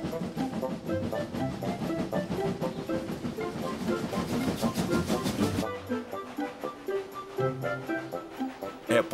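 Cartoon steam locomotive running on rails, a dense rhythmic clatter with hissing and a busy musical backing, loud throughout and thinning after a sudden cut near the end.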